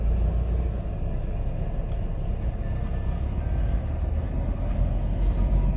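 A manual car pulls away slowly from a standstill on a short practice track, its engine giving a steady, continuous low rumble throughout, heard from inside the cabin with no other sounds.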